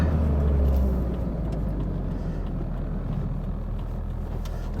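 Peugeot 205 1.9 GTI engine pulling hard through the gears, a loud steady in-cabin drone with deep low rumble, no voices over it.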